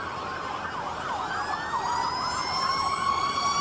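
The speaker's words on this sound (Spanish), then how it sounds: "Se escuchan sirenas también." Emergency vehicle sirens wailing during Pope Francis's procession along Avenida Fawcett, several overlapping rising and falling tones that grow steadily louder as they approach, with no talk over them.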